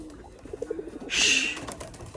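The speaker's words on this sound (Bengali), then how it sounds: "অনেকে আমার কাছে ফ্রেশ কবুতর চান তো তাদের জন্য এই কবুতরটা" A pair of pigeons, a male and a female, close by. A few soft rhythmic coos are followed by a short, bright flutter-like burst, with no talk.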